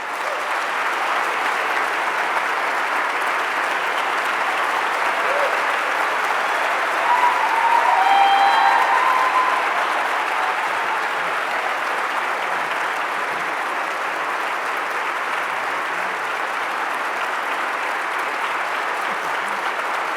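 A large audience claps steadily for around twenty seconds to welcome a discussion panel at the Carver Conversations event, a dense, even wash of applause that swells slightly midway and keeps going without any speech.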